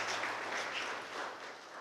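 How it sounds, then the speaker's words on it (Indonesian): Faint, steady audience applause at an anti-drug community event in Tarakan, Indonesia, with a soft, even wash of clapping that tapers slightly toward the end. "Boleh tepuk tangan."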